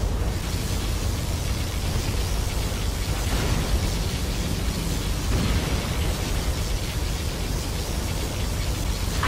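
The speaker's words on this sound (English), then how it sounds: "Particle cannon activated." Particle cannon firing in Command & Conquer Generals Zero Hour, heard as a sustained, loud roaring blast of dense noise that holds steady for the full stretch with no pauses.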